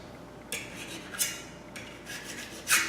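A steel hand scraper drawn across a sharpening surface, several separate short rasping strokes that each end in a bright metallic scrape, close and clear with no talking.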